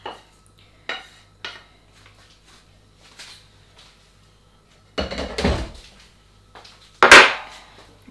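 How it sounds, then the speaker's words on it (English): Spoon scraping and knocking around a pot of Cullen skink, a chunky fish soup, in a few short separate strokes, then a louder burst of clattering stirring and a sharp clank near the end. "I'm going to mix it around to distribute, like so."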